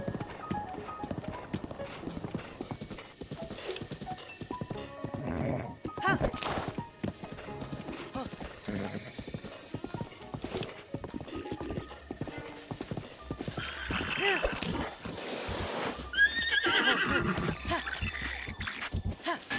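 Horse hooves clip-clop steadily with an occasional neigh in the video game The Legend of Zelda: Breath of the Wild, mixed with game sounds and intermittent talk.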